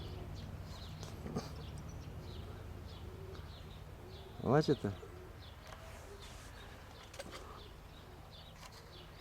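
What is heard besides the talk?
pigeon cooing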